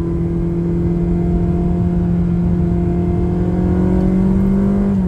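A Ferrari 360 Modena engine holds a steady, loud, rising drone as it accelerates, its pitch climbing gradually toward the end.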